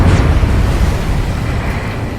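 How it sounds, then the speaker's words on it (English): Huge underwater explosion in the video game Ace Combat 7, targeting a submarine: a loud, sustained, deep roaring rumble that stays strong for the whole stretch and eases slightly at the end. "A huge explosion just went off underwater."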